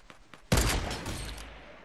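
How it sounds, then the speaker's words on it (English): Gunfire in Fortnite Battle Royale: a sudden loud burst of rapid shots erupts after a few faint earlier pops, then rolls on as a dense, sustained barrage that slowly tails off. "He's shooting straight across, too."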